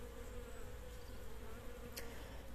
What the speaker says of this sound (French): Voilà, les abeilles sont de sortie.